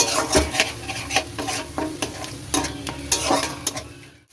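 Tomato paste with coriander and cumin powder fries in a pan for a bhetki fish dish, a crackling sizzle broken by rhythmic spatula scrapes and clinks against the pan, close and fairly loud, without talk.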